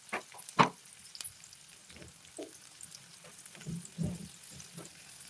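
Onions with cumin sauté in a pan with a soft, faint sizzle, broken by a few sharp clinks and scrapes of stirring.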